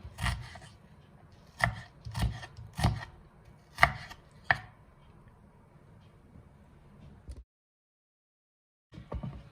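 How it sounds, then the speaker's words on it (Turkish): Steady knife chops through onions on a cutting board, irregular single strikes with short pauses, close and crisp, ending in silence before a couple more faint taps. "Normal yemek doğruyorum."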